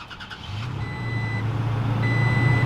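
Engine of a 2022 Toyota Tacoma TRD Sport XP pickup turning over and settling into a low idle after a few chime tones, heard from inside the cab with no talk.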